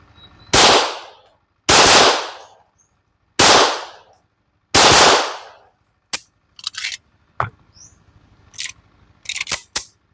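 Four loud, evenly spaced gunshots from a firearm loaded with Narbonne powder ring out close by, each with a short decaying tail. They are followed by a series of quieter sharp clicks and knocks, and no talk is heard.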